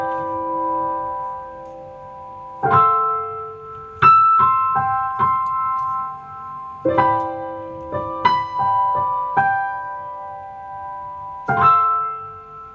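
Piano chords and notes played at a relaxed pace, picked up through a microphone with a bit of room noise, each chord ringing out and decaying.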